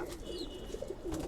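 Gift pigeons give low, soft cooing calls in a quiet setting, a few faint rolling coos across a short moment with light background hiss.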